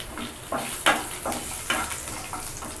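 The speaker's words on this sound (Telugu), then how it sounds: "ఈ ఆయిల్లో కొంచెం ఈ ఆవాలు చిట్పటానిందాక వేయించండి." Mustard seeds and crushed garlic frying in hot oil make a steady hissing sizzle, with several bright crackling bursts as seeds pop and the pan is stirred, close and moderately loud.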